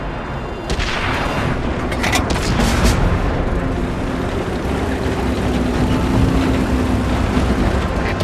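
Heavy tank cannon blasts from World of Tanks on console, booming loud and close within a dense, continuous rumble of battle that persists throughout.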